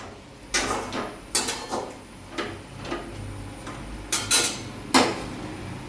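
A lid set down on a pan of vegetable curry gives sharp metallic clatters and taps at close range, arriving as separate knocks with short gaps between them, and no one speaks.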